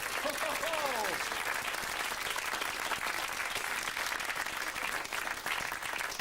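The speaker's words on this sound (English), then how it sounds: "Give her a clap!" Audience applause after a sawing-in-half magic trick at a Sooty stage show, dense steady clapping filling the whole stretch with some voices mixed in.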